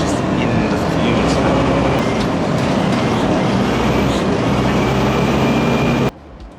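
An old low-floor London double-decker bus on a vintage running day, its diesel engine rumbling loudly and steadily throughout with air brake hiss and rattling, until the noise drops away abruptly near the end.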